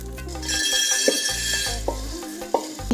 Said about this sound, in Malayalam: അപ്പം നല്ല രീതിയിൽ ഒരു പൊട്ടുന്ന ഒരു സൗണ്ട് വരുന്നുണ്ട് കേട്ടോ